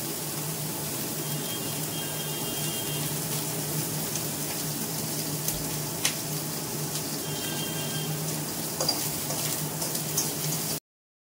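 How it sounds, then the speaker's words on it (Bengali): Eggplant frying in a generous amount of oil, a continuous soft sizzle and crackle heard close and steady throughout with a few faint clicks and pops. "বেগুনটা ভাজতে একটু তেলটা বেশি লাগে।"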